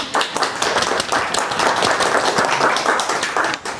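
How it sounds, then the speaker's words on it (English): An audience applauds together at a tech talk, a dense, steady wash of many hands clapping that stays loud and fairly even throughout, with no voices over it. "give them a round of applause"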